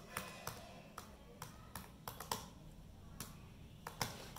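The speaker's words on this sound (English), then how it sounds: "So let's try to type something." Keys clatter on a 2017 MacBook Pro keyboard, a run of light, irregular taps close to the microphone against a faint room hiss.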